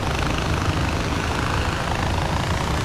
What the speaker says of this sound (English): We're getting a little high for this little chopper.